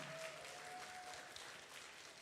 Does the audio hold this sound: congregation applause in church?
yes